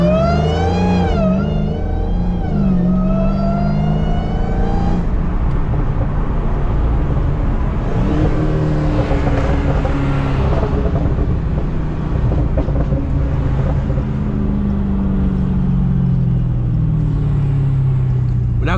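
Loud engine of an 800hp SRT Hellcat revving and accelerating during a street race against a Cadillac CTS-V, pitch climbing then dropping as gears shift, a continuous roar throughout.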